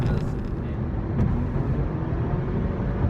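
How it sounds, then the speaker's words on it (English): A steady, heavy low rumble of tires and rushing wind fills the cabin of a 2017 Fiat 500X at freeway speed, constant and loud with no gaps. "the wind noise and the tire rumble"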